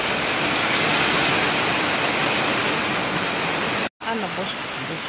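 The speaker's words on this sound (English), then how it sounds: "so strong rain" Heavy rain pours down in a steady, loud roar that fills the scene, broken by a brief dropout near the end before resuming slightly softer.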